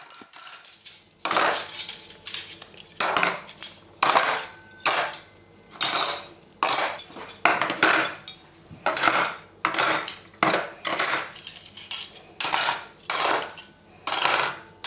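Freshly polished metal cutlery clinks and clatters as it is put away in repeated handfuls, one batch after another in a steady rhythm, close and bright; no talking.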